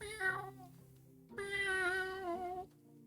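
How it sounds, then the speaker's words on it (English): Two soft, drawn-out cat meows, close and quiet, the second longer and wavering, separated by a short pause. "you hear the very soft sounds that you've heard a few nights in a row of soft meowing"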